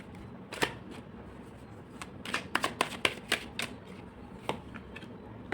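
Tarot cards riffle and snap as a deck is shuffled and individual cards are drawn, a close, quiet run of crisp flicks clustered in the middle with scattered single taps before and after.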